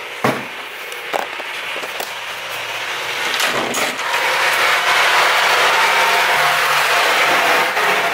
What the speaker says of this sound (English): Ryan just started drilling stuff through the wall in the other room